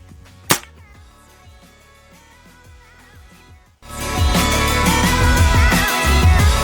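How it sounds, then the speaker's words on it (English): A single sharp, loud crack from a Walther Century 4.5mm air rifle fired outdoors during a March hunt among trees, the report cut short against a quiet background before a louder, steady rush of wind or noise follows. "So that was the first shot."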